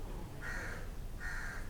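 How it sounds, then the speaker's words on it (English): Crows cawing in a quiet park in Malacca, two drawn-out calls about a second apart, moderately distant over a steady low background hum. "you can hear the beautiful birds, the crows going."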